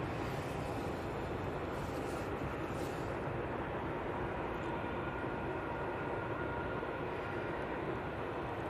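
A TUI jet climbing away from Manchester Airport on departure for Gatwick, a steady broad roar of engine noise that holds at constant loudness throughout, with no talk over it.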